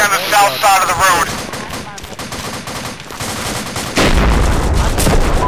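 Mortar fire and explosions in the video game Arma 2, with rapid gunfire bursts and a heavy boom near the end, loud and close under radio-style voices.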